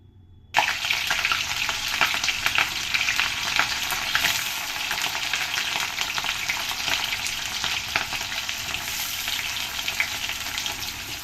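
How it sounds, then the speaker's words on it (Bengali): Onions hit hot oil and fry vigorously, with a sudden burst of loud, dense crackling sizzle after a brief silence that stays steady and busy throughout with occasional stirring. "সো তেল আমার গরম হয়ে গেছে এখন। তো আমি এখন এখানে দিয়ে দেব পেঁয়াজ।"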